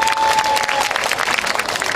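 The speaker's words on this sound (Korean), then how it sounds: "큰 박수 한번 부탁드리도록 하겠습니다" Crowd applause for a guest of honour at the opening ceremony of the 10th Icheon ginseng festival, steady dense clapping throughout, fairly loud with a faint tone early on.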